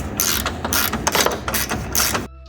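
Two 12mm bolts are run into the lower front T-bar of a turbo Toyota GT86 with a ratchet, giving a close, rapid clicking whir in quick bursts that stops abruptly at the end.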